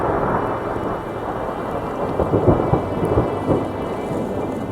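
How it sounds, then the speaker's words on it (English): A mountain thunderstorm along the Colorado Trail, with heavy steady rain and low rolling thunder rumbling through, a few louder swells midway, no voices. "Lion got to see our first mountain thunderstorm."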